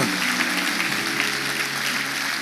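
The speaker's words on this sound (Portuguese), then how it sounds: "Pode aplaudir o Senhor se você recebe essa palavra" A church congregation applauding during a sermon, a short burst of steady massed clapping that fills the room without pause.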